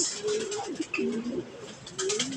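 Racing pigeons coo up close in soft, rolling bursts, several overlapping calls with brief pauses between them.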